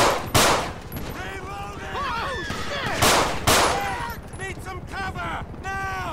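Gunfire in a GTA V police shootout, a few sharp loud shots punching through an ongoing mix of shouting voices and radio chatter, with people talking throughout.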